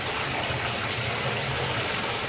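Water gushing and draining steadily out of a bathtub during unclogging, a constant close rushing flow with a low gurgling undertone throughout.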